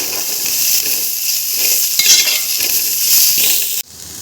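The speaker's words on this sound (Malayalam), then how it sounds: "ഇനി അടുത്തതായി ഇതിലേക്ക് നമുക്കൊരു 5 പച്ചമുളക് ഇട്ട് കൊടുക്കാം. ഇതും ചെറുതായി ഒന്ന് വഴന്നു വരണം." Green chillies sizzling with onions in a frying pan for a vegetable biryani, a steady close hiss with a few stirring scrapes and light utensil clinks before it cuts off near the end.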